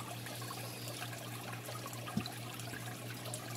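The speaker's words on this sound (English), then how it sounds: "scoop into the water, and you just turn it over and lift it out, and it just leaves the water in the tank" Water being scooped and lifted out of an aquarium tank during a water change, a faint continuous trickling and dribbling with one small splash, quiet and close.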